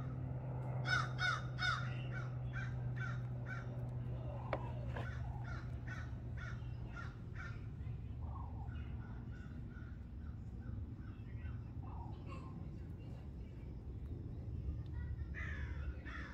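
Crows caw outdoors in a quick run of repeated harsh calls, dense at first and then more scattered, over a constant low hum.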